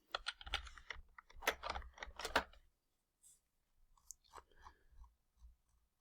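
Rapid close-up clatter of typing on a computer keyboard, a dense burst of keystrokes followed by a pause and then sparser, lighter taps.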